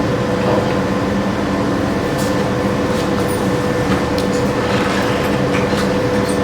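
Train rumble staged as a sound effect during a theatrical play, a steady continuous rolling drone with faint clatter, loud and unbroken throughout.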